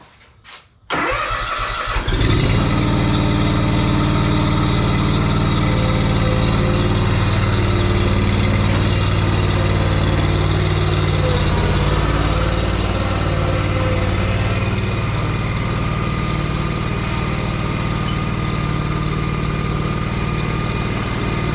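A lawn mower engine cranks with a brief sputter, then catches and settles into a loud, steady running drone close by, holding unchanged to the end with no voices.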